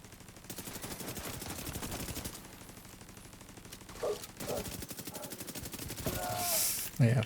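Video game gunfire crackles in rapid automatic bursts, a dense run of shots that stops, then scattered shots and impacts return under a voice talking.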